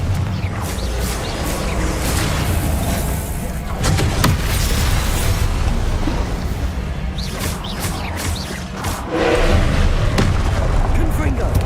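Confringo explosion spells cast in Hogwarts Legacy, giving dense, continuous blasts and crackling booms with several sharper bursts, loud and layered over a low rumble, with a voice talking through it.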